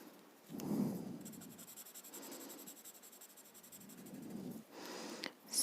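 Graphite pencil shades across paper in soft, steady scratchy strokes, faint and close, with a brief louder rub near the start.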